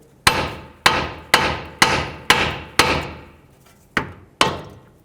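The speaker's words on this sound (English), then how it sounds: "with a hammer, you can hammer right here, and that should break the tie rod free from the knuckle" Eight sharp metallic hammer strikes ring out one after another at a steady pace, each blow loud and close with a short ringing decay.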